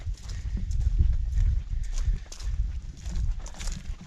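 Footsteps walking across a homestead pasture, an uneven run of soft thuds on rough ground, close and steady, with faint wind behind.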